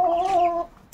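A rooster gives a short, close cluck-like crow lasting under a second, followed by a quick faint squawk.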